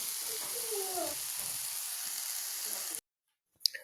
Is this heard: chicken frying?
yes